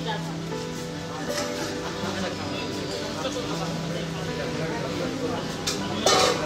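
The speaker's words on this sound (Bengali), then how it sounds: "এখনো রান্না বান্না হচ্ছে।" Pots, pans and utensils clink and scrape as cooking goes on at a gathering near the Ganga ghat at Naihati, Barrackpore. The clatter stays soft and steady under continuous nearby talk and background hum.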